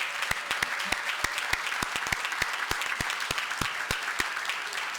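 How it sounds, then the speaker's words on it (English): Audience applause for the hosts at a board of directors' assembly, heard as a steady mid-level patter of many hands with sharp individual claps standing out at irregular moments across the whole stretch. "Please join me in a round of applause for their hospitality."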